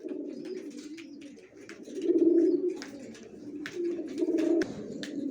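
A pair of Johnson-line racer pigeons, young adults still molting, coo softly and repeatedly in low, throaty rolling phrases, close by, with faint clicks and chirps over the top.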